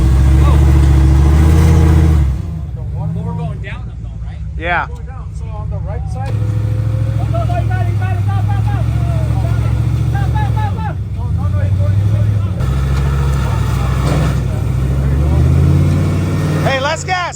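An off-road vehicle's engine rumbles and revs loudly and close at an off-road endurance race in Big Bear, holding a deep, steady drone that swells and eases under excited talk from people inside.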